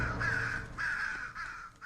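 Crows caw in the horror game Mother's Eye, three loud, harsh, drawn-out calls in close succession, heard alone without talk.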